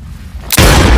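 A single loud gunshot from the film 10 Cloverfield Lane cracks out suddenly after a quiet stretch, its blast filling the last half of the moment with a heavy booming roar.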